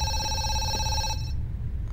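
Electronic telephone ringing in the horror zoo game Zoochosis, a steady pulsing ring tone lasting just over a second before it cuts off, loud and alone with a low background hum and no talking.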